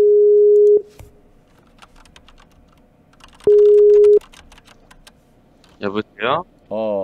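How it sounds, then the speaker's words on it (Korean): Phone dialing in a horror video game: two long steady ringback tones sound with a gap between them, followed by clipped telephone-filtered voice bursts as the call connects. "여기서 왼팔이한테 전화를 건다"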